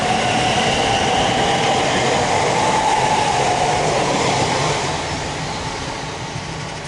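A Heathrow Express train on the Great Western Main Line at Hanwell rushes past in a loud, steady roar with faint squealing wheels, fading slightly toward the end.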